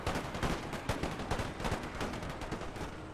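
A Puckle gun broadside fires in the video game Empire Total War, a dense rapid crackle of overlapping gunshots and volley bursts sustained loudly throughout, with no talk.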